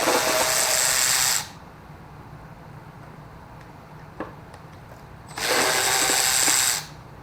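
A cordless power tool whirs in two bursts, about a second and a half each, separated by a quiet gap with a faint click, close by during a 1977 Ford 351M engine teardown.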